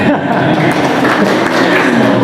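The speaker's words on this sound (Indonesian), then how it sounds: "Luar biasa, tepuk tangan." Applause for a correct answer during a teacher's classroom activity, a steady dense patter of clapping from a group with some voices mixed in.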